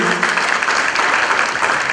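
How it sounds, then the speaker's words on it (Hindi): Loud, dense audience applause fills the space without a break, a steady wash of many hands clapping at an award ceremony honouring Atal Bihari Vajpayee. "तालियां बढ़ती रहनी चाहिए।"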